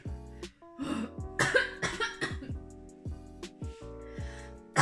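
A woman coughs several times in a row between breathy laughter, close up, with short vocal sounds mixed in.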